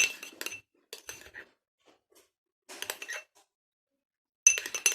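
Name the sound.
utensil clinking while mixing ingredients in a bowl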